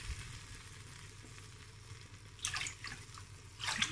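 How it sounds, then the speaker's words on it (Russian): Water splashes and trickles into a pot in short bursts, fairly close, over a low steady background hum; no talking. "наливаем воду"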